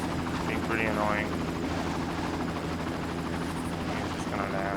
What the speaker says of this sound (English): Leave me alone, you chopper.